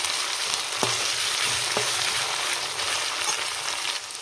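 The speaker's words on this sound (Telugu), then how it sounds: "ఒక 5 minutes బాగా ఫ్రై చేసుకోవాలి." Onions frying in a pan for chitrannam lemon rice, a steady close sizzle with a couple of sharp clinks of a spatula against the pan.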